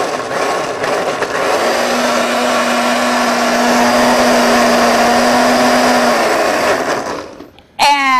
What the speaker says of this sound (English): Blend it up.